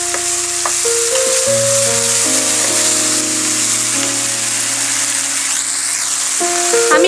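Tomato, tomato sauce and soy sauce sizzling steadily in a frying pan while being stirred for a pasta dish, with a constant hiss and no talking.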